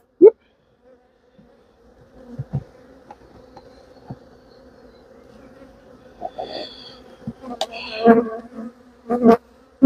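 Honeybees swarm and buzz around an opened hive during nuc building, a steady close drone with rising and falling pitch and occasional sharp whirs as individual bees pass near, plus brief handling clicks.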